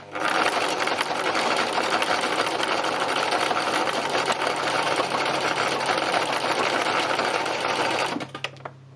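A sewing machine doing free machine embroidery on fabric runs at a fast, steady rattle for about eight seconds, loud and close, then stops abruptly with a few faint clicks.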